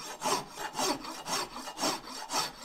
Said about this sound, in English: And you have a nice big coarse file.